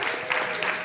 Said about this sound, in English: You can give him a round of applause here